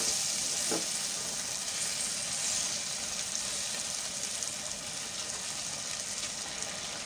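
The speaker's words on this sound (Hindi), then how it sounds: "अब हम इसमें आलू की कतलियाँ ऐड कर देंगे।" Potato slices frying in a spice masala for aloo bhujia, a continuous even sizzle close by, with no talking.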